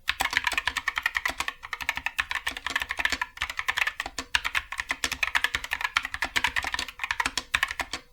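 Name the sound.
typing on budget gaming keyboard with optical yellow switches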